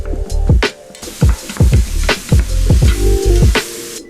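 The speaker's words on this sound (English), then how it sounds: "Cook the onions down a bit until translucent, then reintroduce the ground beef using a couple utensils to break everything up into small pieces." Ground beef and onions frying in a pan while utensils break the meat into small pieces, steady sizzling under repeated sharp scraping and tapping strokes at an uneven rhythm, close and loud.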